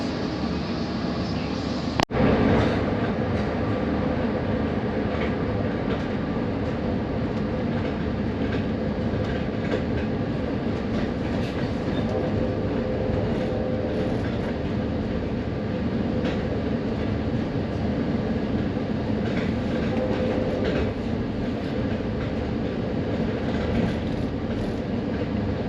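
An Amtrak Coast Starlight train departing San Francisco, with a constant rumble and rolling rail noise heard from on board and a sharp click near the start.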